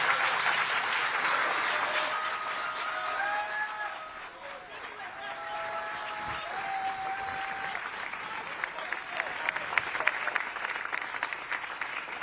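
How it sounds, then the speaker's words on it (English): Crowd applauding as Joe Biden concludes his speech, sustained clapping and cheering with a few raised voices and whistles, continuing steadily for about twelve seconds. "applause for Joe Biden as he concludes 3 or 4 minutes of those first comments"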